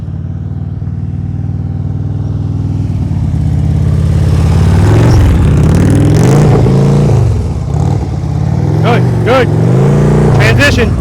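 A motorcycle in slow-speed riding practice hums and rises and falls in engine pitch as the throttle is worked, loud and close, with sharp rev blips near the end.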